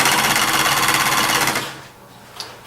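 Sewing machine stitching a mermaid blanket, a steady rapid mechanical whirr running loud for about a second and a half before stopping, followed by a brief faint click.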